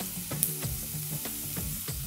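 Vegetables for restaurant-style chicken noodles sauté in a pan after salt goes in, steady close frying sizzle with rhythmic spatula strokes every half second or so, no one speaking.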